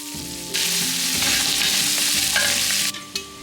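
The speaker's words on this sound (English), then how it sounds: "in went the chopped onions, which I sauteed until they turned soft and lightly golden" Chopped onions sauté in a hot pan, a steady bright sizzle starting suddenly and holding for a few seconds before a brief stir and fade.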